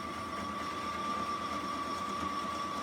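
A sewing machine stitching a straight seam through dish mat and kitchen towel fabric, a steady close hum with a rapid, even needle rhythm running unbroken for a few seconds.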